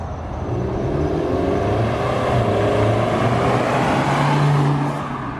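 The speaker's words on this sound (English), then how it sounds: "her intake sounds amazing" An MK6 Jetta TSI engine with a new intake and no exhaust revs and drones steadily nearby, its intake roaring with rising and falling pitch as the car moves along.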